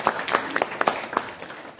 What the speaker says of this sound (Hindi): इसमें ताली बजा सकते हैं